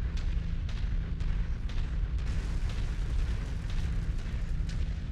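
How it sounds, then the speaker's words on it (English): Airstrike explosions in the MechWarrior 5: Mercenaries video game, a dense, continuous barrage of booming blasts and rumbling impacts, loud and sustained throughout with no talk. "Our employer has okayed the use of airstrike on this mission."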